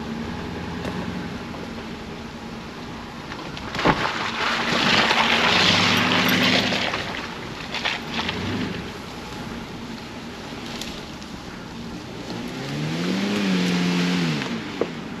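An Oldsmobile off-road vehicle drives along a trail, its engine rising and falling in loud revving surges, with thumps and bursts of wind noise across the whole stretch and no talk.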